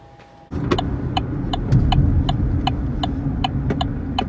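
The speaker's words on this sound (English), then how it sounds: "So let's go for a drive." A 2015-2020 Chevrolet Colorado pickup starts up and sets off, its engine rumble kicking in abruptly and holding steady while a regular ticking clicks over it at close range.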